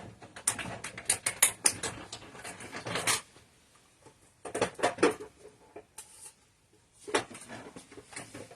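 Paper for a handmade card being cut on a trimmer, heard as bursts of rapid, crisp mechanical clicking and scraping separated by short quiet pauses.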